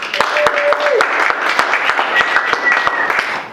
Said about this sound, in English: Give Maggie a warm round of applause.